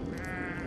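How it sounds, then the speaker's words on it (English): A sheep in a video game bleats in one sustained, wavering call, fairly loud and clear against faint background noise. "The sheep!"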